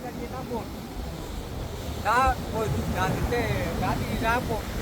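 Strong wind blowing across the seashore at a fishing coast in Karkovalam, with steady broadband rushing and buffeting on the microphone, and people talking over it throughout.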